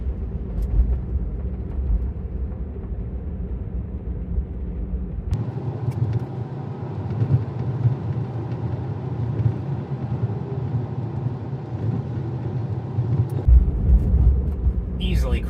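Car driving along a bumpy street in North Hollywood, a steady low road rumble with jolts as the camera shakes, continuous and close.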